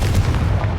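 A sharp, loud explosive boom from the Confringo spell in Hogwarts Legacy, a brief punchy burst with rumbling low end that fills the short moment alone.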